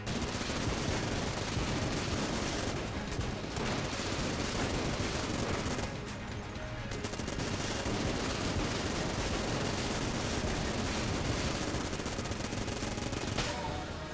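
Rapid, dense gunfire from Enter the Gungeon in Minigungeon mode rattles almost nonstop at high volume, briefly easing near the middle before the relentless shooting returns.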